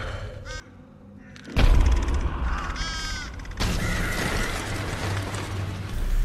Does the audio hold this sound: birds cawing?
yes